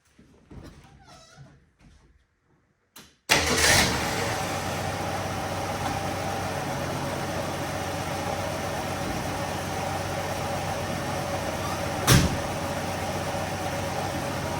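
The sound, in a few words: 1968 Ford Mustang engine starting and running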